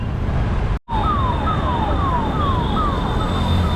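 An ambulance siren in New Delhi traffic wails in repeated descending sweeps, loud and close, over a steady roar of traffic and engine noise, with a brief dropout near the start.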